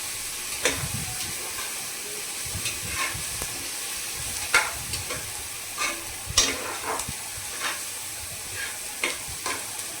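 Onions sauté in a pan until golden for tomato rice, with a steady soft sizzle and intermittent scraping strokes of a spatula stirring at an irregular pace.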